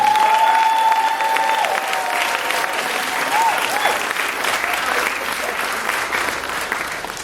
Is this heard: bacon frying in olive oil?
no